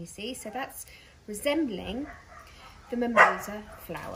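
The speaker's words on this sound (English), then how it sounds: "That's the dog." A dog barks and yips in short bursts beneath a person talking in a kitchen.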